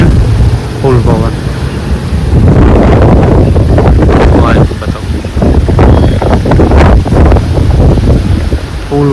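A strong gale during a cyclone storm with rain buffets the microphone, a loud continuous roaring rush with gusting surges, while a person talks over it.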